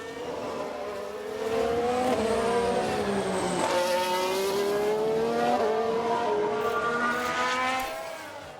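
In the F1 Manager 22 racing game, a race car locks up its tyres; engine notes sweep up and down, briefly joined by a squeal, mid-level and continuous before fading at the end.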